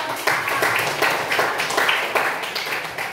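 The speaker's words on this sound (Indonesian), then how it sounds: "Tepuk tangan dulu." A school class claps together in a classroom, a brisk burst of overlapping hand claps falling into a loose, steady rhythm for several seconds, fairly close and loud.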